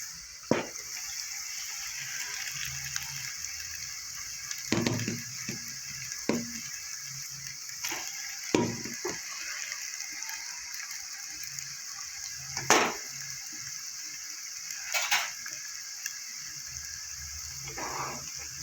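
Chowmein noodles get tossed into a pan of fried vegetables for street-style egg chowmein, with a steady sizzle and hiss broken by repeated clanks and scrapes of a spatula against the pan, close and unbroken.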